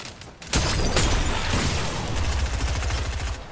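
Loud video-game combat erupts at once: a sudden heavy blast from thrown stun grenades followed by sustained rattling gunfire and booms, dense and continuous throughout.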